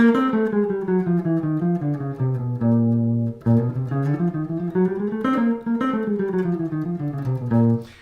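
A descending chromatic scale on a sustained, harmonically rich instrument, played as a steady run of stepwise notes with a few held tones, continuous and close with no talking.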